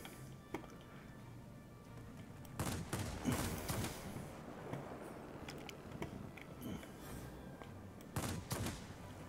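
30 mm cannons on a J7W1 fighter in World of Warplanes fire in short, spaced bursts, each salvo a cluster of heavy thuds over a low, steady engine drone.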